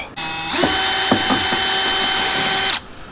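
Power tool spinning out the last bolt of a Minn Kota Terrova trolling motor mount on a Tracker Pro Guide V-16 boat, a loud close whine of about two seconds with ratcheting clicks, starting and stopping abruptly.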